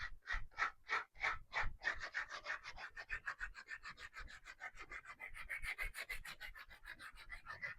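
Rhythmic rasping strokes of sandpaper distressing a painted resin surface, quick back-and-forth passes repeating steadily, close and quiet.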